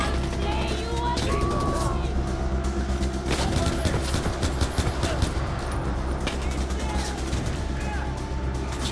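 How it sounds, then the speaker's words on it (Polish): Rapid gunfire in the video game Far Cry 4 crackles in dense overlapping bursts over a steady drone of game ambience, with voices talking throughout. "No i skąd on strzela?"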